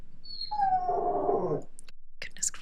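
A dog whines indoors in a rising, wavering howl-like whimper lasting about a second, close and fairly quiet, followed by a few short high yips or squeaks.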